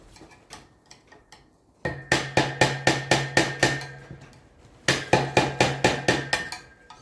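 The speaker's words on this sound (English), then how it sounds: "Enter the hammer and the universal chisel, otherwise known as a cheap ass screwdriver." A hammer strikes a cheap screwdriver used as a chisel while dismantling a Land Rover Series pedal assembly: two loud bursts of rapid, evenly spaced metallic blows with a ringing tone, preceded by lighter taps.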